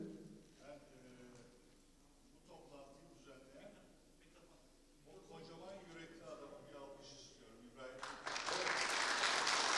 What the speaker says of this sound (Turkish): Ben bütün başkanlarımız adına bir alkış istedim.